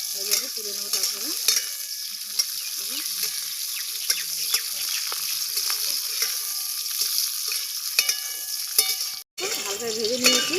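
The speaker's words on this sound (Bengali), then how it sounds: "দেখুন 2 মিনিট ভেজে নিলেই হয়ে যাবে" Soybean chunks and pointed gourd frying in oil with mustard paste make a continuous, close sizzle. Light stirring clatter and small pops sound throughout, with a brief cutout near the end.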